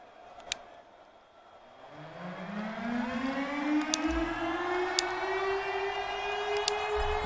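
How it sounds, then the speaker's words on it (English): A loud siren in the football video game Madden 22 winds up from a low growl to a sustained high wail, rising steadily and holding, with a few sharp clicks along the way. "This one I hate that siren."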